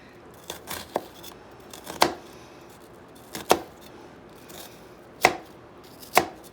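A knife chops an onion on a cutting board in a handful of sharp, spaced strikes, each a crisp close thud with quieter scraping between.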